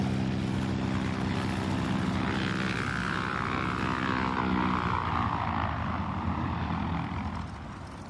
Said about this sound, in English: the trimotor, named the Floyd Bennett after Byrd's companion on his North Pole flight, took off with its crew of 4